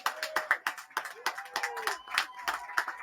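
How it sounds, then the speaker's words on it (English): A small crowd at a men's soccer match against Cleveland SC claps for a substituted player leaving the field, with uneven, sparse claps heard from a distance, mixed with faint crowd voices and a stadium announcer's voice. "Big round of applause."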